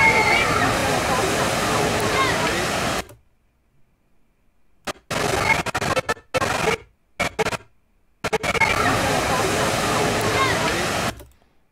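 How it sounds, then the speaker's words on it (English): Rushing waterfall roar with people sliding down it, loud and broadband, cutting out abruptly into silence and then returning in short bursts before a full stretch at the end. "People coming down a waterfall."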